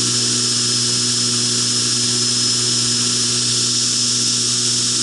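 Belt grinder running steadily while grinding the bevel on a Heretic H2 knife blade, a constant close whine and hum with no breaks and no voices.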